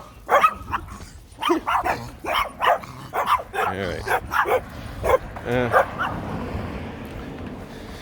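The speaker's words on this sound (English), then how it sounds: "more little dogs." Small dogs bark in a quick, yappy series of sharp, close barks that repeat through most of the stretch, mixed with someone talking over them before the noise thins into a faint outdoor hush.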